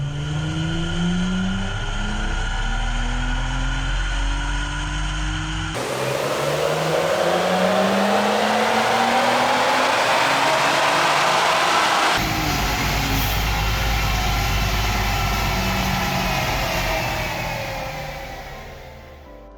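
A tuned Ford Explorer running an E50 tune on a dyno: a loud, sustained engine roar climbs steadily in pitch through the gears, with brief shifts between pulls, then fades at the end.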